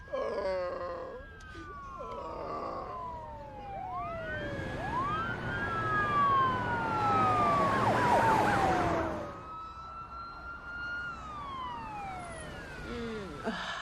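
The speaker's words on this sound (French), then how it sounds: "Miss Johnson, appelez une ambulance." An ambulance siren wails in rising and falling sweeps, swelling louder as it approaches and then fading away, with several overlapping siren tones.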